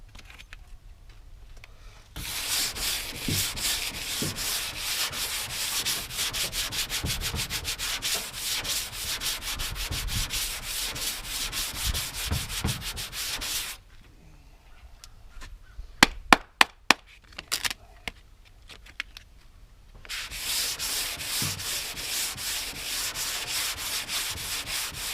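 Bondo filler is block-sanded by hand on the body of a 1978 El Camino SS in a steady, close rasping rub, pausing midway for a few sharp taps before the sanding resumes.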